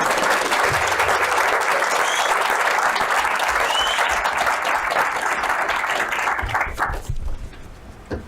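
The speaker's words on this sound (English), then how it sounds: "So everyone, a big applaud for the jury." Sustained dense applause from an audience for a jury at a youth debate event, steady and loud for about seven seconds before fading out at the end.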